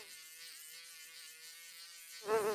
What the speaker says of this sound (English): Bug.